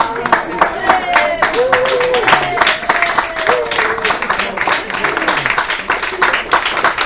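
Steady, rhythmic audience clapping after a stage performance of Les Caprices de Marianne, with a voice talking over the claps throughout.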